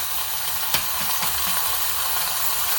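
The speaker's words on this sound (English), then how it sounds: "And hear it nice and sizzling." Ribeye steaks sizzle in a hot pan on a bed of garlic, a steady bright hiss running throughout with a few soft pops and clicks early on, close and fairly loud with no talking.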